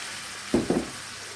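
Chardonnay wine hits a hot pan of sausage and spinach with two quick, close bursts of sizzling hiss, one right after the other, then fades to a faint background.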